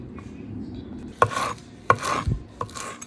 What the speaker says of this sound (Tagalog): Slicing. Pressing. Pressing the garlic. Crushing.